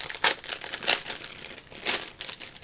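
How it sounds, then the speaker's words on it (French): Close, crisp crinkling of plastic wrap being handled and pulled off, in quick irregular bursts of rustling. "Donc je vais vous enlever les plastiques, ça sera plus simple. Donc désolé pour le bruit."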